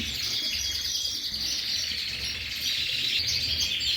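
Caged birds in a birdroom before the breeding season chirp continuously, a dense, steady chorus of high tweets filling the room at even loudness, with no voices.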